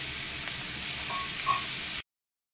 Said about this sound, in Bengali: পেঁয়াজ এবং টমেটোগুলোকে একটু ভেজে নেব।